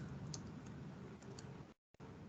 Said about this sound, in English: Right, let me finish the typing first.